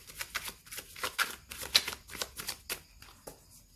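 Tarot cards being shuffled close up: a quick run of crisp, papery riffles and slaps in uneven bursts, fairly quiet, with no talking over them.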